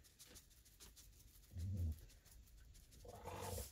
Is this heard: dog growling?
yes